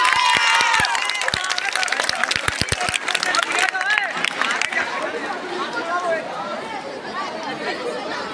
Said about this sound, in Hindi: एक बार पूरे विद्यालय परिवार के लिए जोरदार तालियां बजाइए।